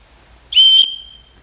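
Single sharp whistle blast used as a signal to call children forward, a short shrill tone lasting about a third of a second, loud and close in an otherwise quiet room.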